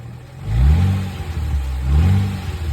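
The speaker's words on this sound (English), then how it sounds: "Go ahead and rev it up." An Infiniti M35x engine revs twice after an exhaust heat shield repair, each rise swelling and falling back toward idle, close and loud with no talk over it.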